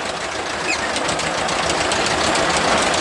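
A tractor with a cultivator attached drives out to the field for shallow tillage, its engine a loud, steady, close rumbling drone with a slight knocking texture throughout.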